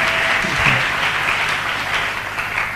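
A church congregation bursts into loud, sustained applause to acclaim the Lord during a worship service, with a dense wash of clapping filling the room throughout.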